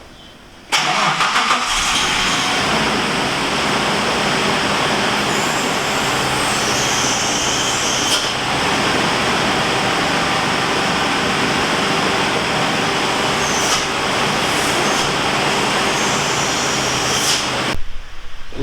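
Suzuki Grand Vitara engine running with its snorkel intake covered, a loud, steady, close drone that holds without stalling for about seventeen seconds, with no talking.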